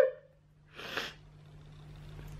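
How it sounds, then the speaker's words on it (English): A single short sneeze bursts out after a brief vocal sound, loud and close, then fades into a quiet hum. "I'm gonna sneeze."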